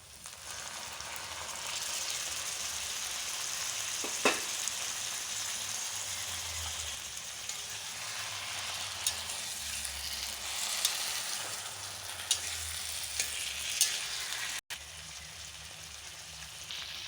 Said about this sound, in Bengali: এবারে আমরা ম্যারিনেট করে রাখা মাংসটা দিয়ে দেব